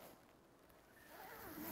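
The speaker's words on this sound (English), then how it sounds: "so I'm gonna put on my jacket and zip it up." A winter jacket being zipped up: a quiet, close zipper pull that rises toward the end, heard alone without talk.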